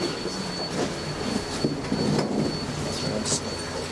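A GO Transit commuter train on a busy line rumbles past, a continuous rolling rail noise with clattering wheel impacts and faint high squeal, steady and fairly close throughout.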